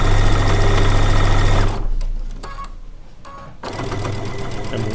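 A sewing machine stitches rows of quilt blocks together in a steady mechanical whir. It runs loud and continuous, slows and softens to a pause in the middle, then picks back up to full speed.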